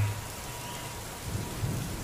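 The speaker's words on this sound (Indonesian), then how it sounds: "Hujan pun terus mengguyur mobil." Heavy rain pouring onto a car, a steady dense hiss with low rumbling thumps building toward the end, continuous and fairly loud with no voices.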